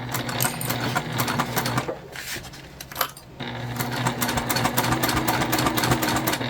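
A sewing machine stitches through vinyl with fast, loud, close needle clatter, pausing briefly in the middle before resuming its steady run.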